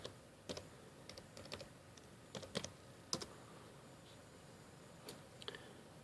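Typing on a computer keyboard, heard as faint, scattered key clicks in short irregular bursts over a quiet room hiss.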